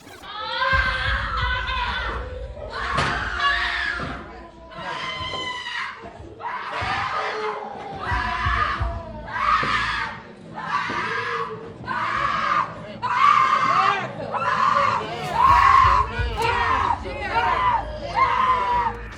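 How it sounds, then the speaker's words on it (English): Family members scream and wail in a courtroom after a verdict convicting two defendants, repeated anguished cries in loud bursts over a crowd, with voices and commotion throughout. "the two defendants collapsed as screams of their family members echoed through the courtroom"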